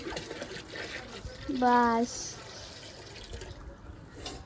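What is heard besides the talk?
water poured into a bucket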